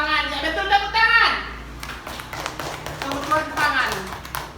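Students in a classroom break into a short burst of clapping after the teacher speaks. Quick, scattered claps from a small group are mixed in with children's and adult voices.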